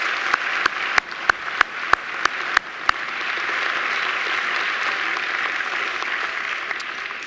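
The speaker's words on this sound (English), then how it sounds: "I think Angela deserves another great round of applause" A graduation ceremony audience gives a round of applause, opening with a few sharp, distinct claps that quickly merge into a broad, steady wash of clapping lasting several seconds.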